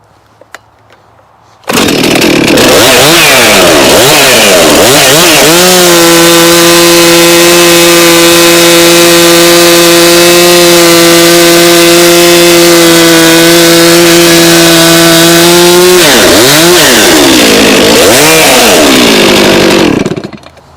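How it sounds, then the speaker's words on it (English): A loud chainsaw fitted with a freshly ground chain revs up, cuts steadily through wood for several seconds, and then revs down again. The engine sits close and fills the whole stretch. "The chain was cutting really nice there, and I lifted my hand up a little bit just so you could see it was self-feeding."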